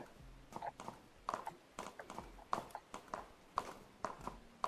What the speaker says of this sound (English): Now we have a horse.